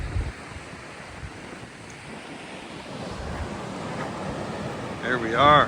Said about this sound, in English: There we are, waterfall number 1 for the day.